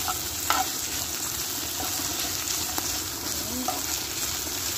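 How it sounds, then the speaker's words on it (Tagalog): A spoon stirs vegetable spaghetti with meat in a hot frying pan, a steady close sizzle and frying hiss layered with scraping and occasional clinks against the pan. "Haluin lang siya guys."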